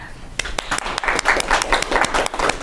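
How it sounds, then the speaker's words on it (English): A studio audience claps for a guest divorce attorney, a brief burst of quick, close handclaps with a few sharp individual claps standing out over the room. "I want to give a round of applause to Attorney Henry Schwan."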